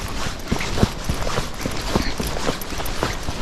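Hoofbeats of a Tennessee Walking Horse ridden at a relaxed gait, a steady series of soft, close thuds with a faint mechanical rattle, no talking.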